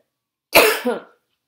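A single short coughing burst in two quick pulses, close and fairly loud, then silence; the person is alone with no talk.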